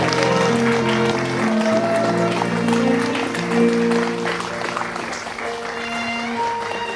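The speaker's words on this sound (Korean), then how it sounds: "두 분 입장이 끝날 때까지 여러분 끊임없는 박수를 보내주시기 바라겠습니다." Wedding guests applaud steadily as the couple enters the ceremony hall, the clapping blended with music playing throughout.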